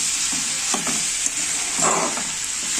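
Boiled chickpeas fry in rendered mutton fat for chana masala, a loud, close, continuous sizzle with soft scraping bursts as they are stirred, and no talking.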